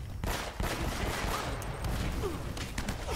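Heavy gunfire crackles in rapid bursts in Uncharted: Drake's Fortune, a dense fusillade of overlapping shots with no pause, loud and close amid game ambience.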